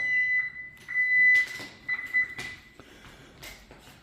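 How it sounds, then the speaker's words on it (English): A home alarm system at the front door entry gives a series of short electronic beeps in an uneven pattern, mixed with door and footstep noises nearby. "we're walking in the front door. Alarm system coming in."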